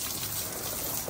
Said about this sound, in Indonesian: kita coba siram lagi